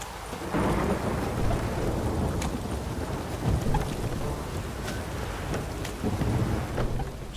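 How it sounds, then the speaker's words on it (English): Heavy rain pours steadily through a thunderstorm in The Witcher 3, with low rumbling thunder rolling underneath and no talk. "A storm, damn it."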